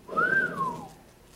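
A single rising-then-falling wolf whistle, clear and fairly close, made by a person's voice imitating a catcall whistle.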